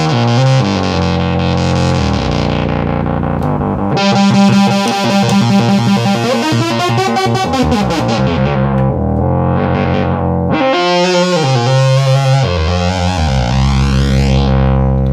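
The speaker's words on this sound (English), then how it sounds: "here's your very narrow pulse wave" A 1972 Minimoog synthesizer plays a very narrow pulse wave, a buzzy, thin tone playing a series of notes, bright and reedy, shifting pitch across several phrases with pauses between.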